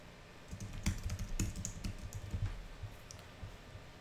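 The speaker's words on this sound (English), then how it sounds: "We're going to type in a description." Rapid clicking of computer keyboard keys while a description is typed during a software integration setup, with a steady run of close, light keystrokes and a few louder taps, no voices.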